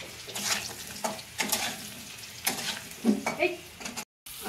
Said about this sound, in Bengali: তো উচ্ছেটা আগে একটু ভেজে নিচ্ছি